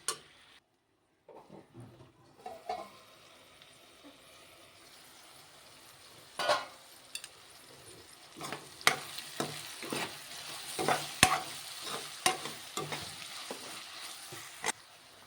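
Snake gourd stirred and cooked in a pan, with a steady soft sizzle and repeated scraping, clinking spatula strokes that grow busier toward the end, heard alone without talk.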